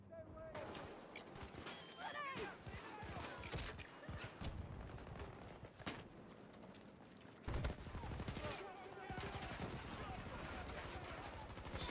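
Gunfire in the multiplayer shooter game Battlefield 2042, with clustered automatic bursts and scattered single shots mixed with mechanical clatter, under frequent talking from a player.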